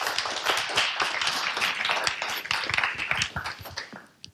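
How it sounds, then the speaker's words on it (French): A conference audience claps to welcome a speaker on stage, a crowd of hands producing sharp, distinct claps in a lively, fairly close burst that thins and fades at the end. "Je vous demande un tonnerre d'applaudissements pour Nicolas."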